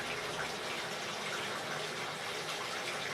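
Water drains from a sink after a plug on stiff wire is pulled, a steady close rushing gurgle that stays even and unbroken throughout with no voices.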